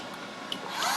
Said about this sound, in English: You'll see there's the trim motor going.